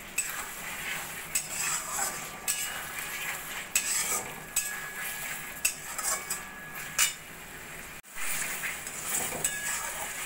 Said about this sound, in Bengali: এবার দিয়ে দেবো আমি ভেজে রাখা পটলটা ভালো করে মশলার সঙ্গে মিশিয়ে নেব।